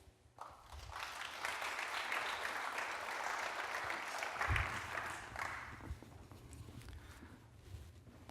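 A conference audience at a corporate brand-registry forum applauds as a speaker is welcomed onstage, a steady wash of clapping rising quickly, swelling briefly near the middle and holding on for several seconds before tapering.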